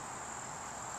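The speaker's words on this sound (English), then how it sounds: "Look at that little grasshopper." Steady high insect chirping in a pumpkin garden, a continuous shrill buzz holding unchanged for a full second, fairly faint and without talk.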